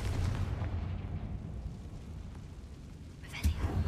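Confringo spell exploding inside an old mine in a Harry Potter video game, a low rumbling burst giving way to quieter ambience, then a sharper blast near the end.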